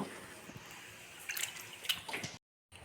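Dishes are being washed under running water at a home kitchen sink, with faint trickling and dripping, a few light clinks around the middle, and a brief drop to silence near the end.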